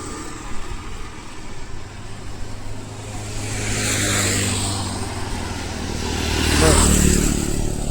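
A vehicle approaches along the Amaravati Seed Access Road, its broadband engine and tyre noise swelling twice over steady background hum, growing louder toward the end with no talk.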